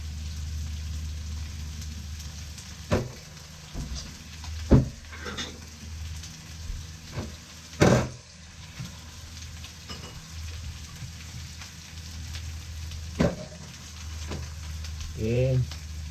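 Vinegar hits chicken wing adobo frying in a pan, bringing a steady sizzle broken by stirring scrapes and clanks of utensils against the pan, with brief talk toward the end.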